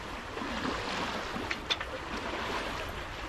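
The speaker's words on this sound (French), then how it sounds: "Le moteur comme ça, on le laisse." Low, steady hum of a boat engine running while cruising on the Mediterranean off Spain, blended with water rushing past the hull and light wind; constant and moderately quiet, with a couple of brief knocks.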